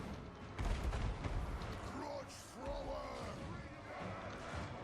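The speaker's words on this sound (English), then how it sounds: "beautiful shots there from the grudge throwers" Heavy booms of dwarf grudge thrower artillery in a Total War Warhammer 2 battle, a few deep thuds early on, then a rumbling battle din under raised voices.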